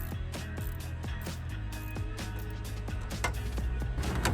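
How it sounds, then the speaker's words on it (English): A ratchet tightens Jubilee clips on the air intake of an Audi A3 8P during a ram air induction kit install, with a rapid run of close, crisp mechanical clicks repeating throughout. "All I'm doing now is tightening up the Jubilee clips for the air intake."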